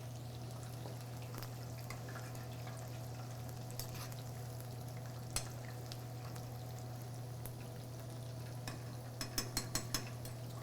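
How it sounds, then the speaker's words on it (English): General Tso's chicken fries in hot oil in a kitchen, a soft steady bubbling sizzle under a constant low hum, with a few sharp clinks and taps toward the end. "While this is frying"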